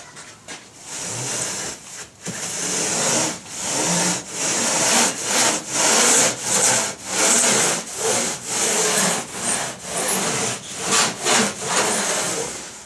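Hand tool rasping along the rail of a foam surfboard blank held against a stand, a steady series of rhythmic back-and-forth scraping strokes, close and fairly loud with no talking.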